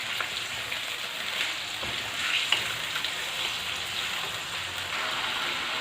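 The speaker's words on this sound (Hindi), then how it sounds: "अब इस चिकन को हम इसके अंदर फ्राई करेंगे ऑयल में।" Chicken pieces frying in hot oil for a karahi chicken korma, a steady close hiss and crackle of sizzling with occasional sharper pops throughout.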